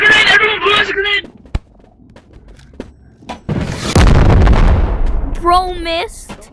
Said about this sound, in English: Everyone blew us a grenade!